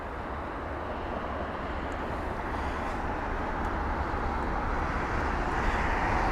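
A Boeing 777-300ER airliner, two years old, arriving at London Heathrow, its engines giving a steady, loud broadband roar that holds evenly and swells slightly throughout, with no voices.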